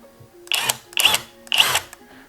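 A Worcraft CIS-S20LiB cordless impact wrench runs at its low speed setting in three short bursts of about half a second each, evenly spaced, with quiet gaps between them. The sound is close and fairly loud.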